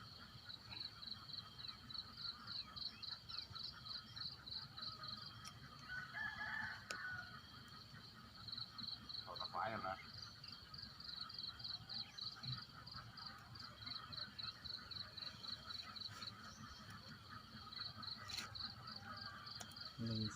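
Frogs croak at night during a frog-catching outing, a steady rhythmic trilling chorus that runs on without a break against a dense background hum.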